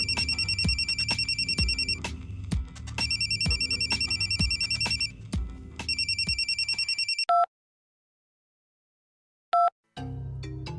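A telephone rings loudly in repeated electronic trills over a thumping backing beat, then the music cuts out, leaving a couple of short isolated beeps before the beat resumes.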